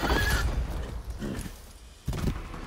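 A horse in the open-world shooter Far Cry 6 gives a loud, close whinny, followed by snorting and a second burst of neighing, with faint hoof clops beneath.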